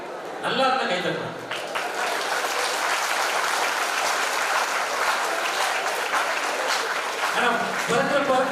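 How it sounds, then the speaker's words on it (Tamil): A live audience at a Tamil Republic Day debate show claps in loud, sustained applause that fills nearly the whole span, with a speaker's voice heard briefly before and after. "நல்லா இருந்தா கை தட்டலாம்."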